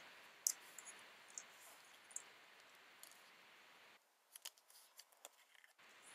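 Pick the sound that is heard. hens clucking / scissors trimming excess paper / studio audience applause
scissors trimming excess paper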